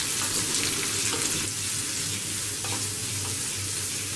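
Sliced onions, ginger and garlic fry in a pan for chicken curry while being stirred, giving a dense, continuous sizzle with soft scraping strokes throughout, close and steady with no talking.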